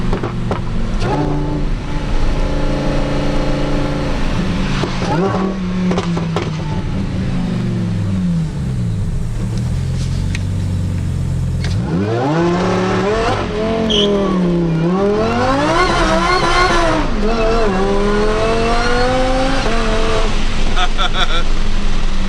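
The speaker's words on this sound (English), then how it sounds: "Alright, we're gonna do a pull right here." A car under a full-throttle pull roars loudly and continuously, engine pitch climbing and sweeping through gears, with traction control off and backfires around it; a voice speaks briefly.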